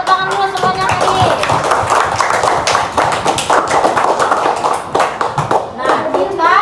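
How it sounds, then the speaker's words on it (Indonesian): Classroom children clap their hands together in a loud, slightly uneven volley of taps, with young voices chattering over the clapping throughout. "Tepuk tangan dulu semuanya hadir."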